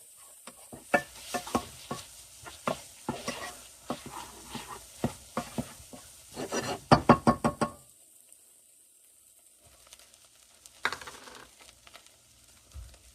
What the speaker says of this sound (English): Stir that in really good.